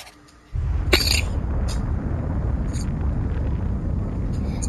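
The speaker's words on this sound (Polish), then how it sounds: "Znowu jakieś dzikie wybuchy." Explosions in the video game Assassin's Creed II: after a short quiet moment a loud, sustained rumbling blast erupts, with sharp crackling bursts layered on top.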